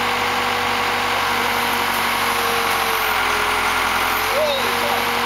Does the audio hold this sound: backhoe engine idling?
yes